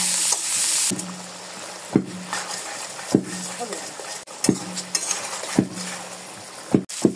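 New potatoes sautéing in oil for a tengra fish curry, with a continuous close sizzle and repeated sharp clinks of a spoon stirring against the pan at a roughly regular pace, plus faint voice in the background.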